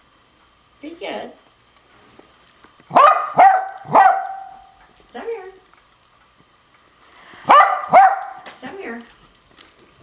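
A female puppy gives a few sharp barks and whimpering yips in short clusters, close by, while people talk and call to her.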